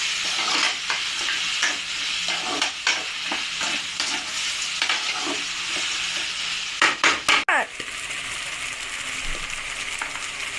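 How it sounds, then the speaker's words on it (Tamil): Mixed vegetables sautéing in a pan for a vegetable kurma, a continuous close sizzle broken by repeated stirring scrapes and a few sharp clatters of the spoon against the pan near the end. "காய்கறிங்க நல்லா வதங்கிட்டு இருக்கு"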